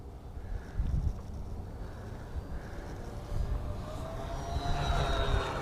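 Twin electric motors of an EC-1500 Twin 1.5m RC airplane buzz steadily as it flies in gusty crosswind, the tone swelling and fading as it passes, with a rising whine near the end; no talk.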